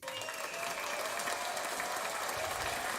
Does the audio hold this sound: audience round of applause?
yes